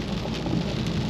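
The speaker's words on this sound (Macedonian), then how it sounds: "Денеска ево врне." Steady rain falls outdoors in a continuous, even hiss, loud and close, with a low rumble underneath and no voices.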